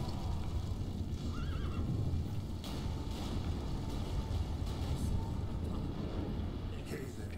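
Horse neighing and hooves clopping in the video game The Witcher 3: Wild Hunt, a whinny rising out of a dense, rumbling battle soundscape with a voice talking over it.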